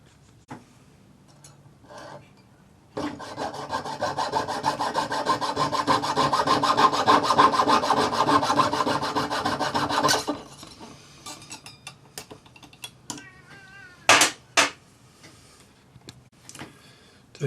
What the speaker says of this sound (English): So we have to file a little bit of a curve in it so that we get a really good connection.